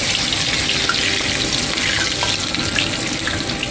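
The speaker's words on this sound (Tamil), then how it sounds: "பொரிக்கிறோம்." Battered cauliflower pieces deep fry in hot oil for Gobi Manchurian, producing a dense, continuous, fairly loud sizzle and bubbling with no speech.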